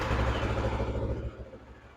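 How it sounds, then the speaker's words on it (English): Kawasaki ER6f motorcycle with a headlight fault, its engine running with a low, loud rumble and clattery pulses close by, easing slightly toward the end. "I'm going to start the engine up and we can see what happens."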